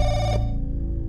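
Telephone ringing inside a Chinese folklore horror video game, a steady electronic ring that is loud and close, breaking off partway and restarting near the end.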